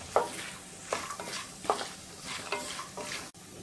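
Poha chivda ingredients frying in a pan with turmeric stirred in. A soft, continuous sizzle is broken by regular stirring strokes roughly every second, heard up close with no talking.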